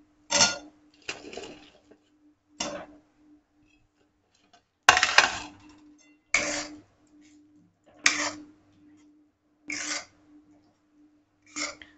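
Manchurian balls go into gravy in a pan and get stirred, giving about eight separate scraping clanks of a spatula against the metal pan, spaced out with quiet gaps between them.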